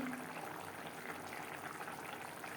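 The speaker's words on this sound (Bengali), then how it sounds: "গ্রেভি বেশ ভালো করে ফুটতে শুরু করে দিয়েছে" Satting fish curry gravy bubbles at a steady boil in a pan, a faint, continuous burbling and popping with no voices over it.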